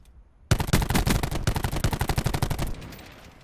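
Rapid automatic gunfire in Call of Duty Blackout as another player opens fire, a loud, steady stream of about twenty close shots lasting two seconds after a silent start, then fading into a low tail.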